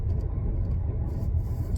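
A car's low, steady engine and road rumble come from inside the cabin as it drives up a mountain road, continuous and even throughout.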